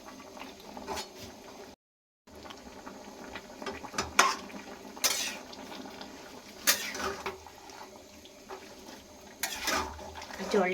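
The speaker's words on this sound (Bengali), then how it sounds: "এবার আমি নাড়াচাড়া দিয়ে নেব।" Pumpkin greens chorchori with mustard and poppy seed paste and water is stirred in a pan, giving soft wet scraping and bubbling with a few sharper utensil clatters, close and fairly quiet.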